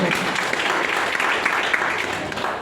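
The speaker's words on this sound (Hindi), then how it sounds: "जोरदार ताली हो" Loud, sustained applause from a large seminar audience, a dense steady wash of many hands clapping without pause.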